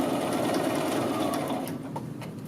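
A sewing machine stitches across a men's shirt collar band, running steadily and close for the whole stretch, a continuous motor whir that eases slightly toward the end.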